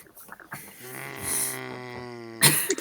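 A person mimics a character snoring with the voice, a single drawn-out, buzzing snore that ends in a short breathy snort.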